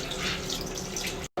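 Tap water running steadily into a sink while rinsing the face, a close, continuous hiss and splash that cuts off abruptly at the end.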